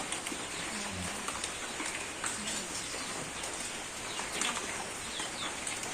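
Light drizzle falls steadily outdoors on a farm near a chicken coop, a soft continuous patter with faint scattered drip ticks and occasional bird calls in the background.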